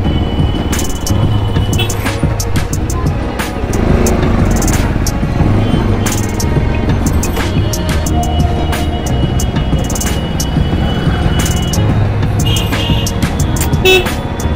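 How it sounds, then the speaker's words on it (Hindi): Dense road traffic on a busy street heard from a motorbike, with a steady engine rumble and repeated horn toots and honks scattered throughout, loud and close. "भाई लग गई ट्रैफिक यार"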